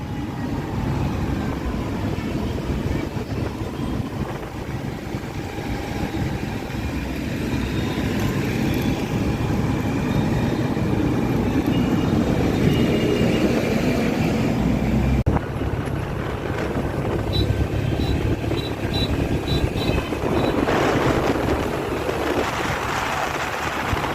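Steady wind rush and road drone from riding an Activa scooter home in traffic, continuous and close, with passing vehicle noise and a brief faint beeping near the end.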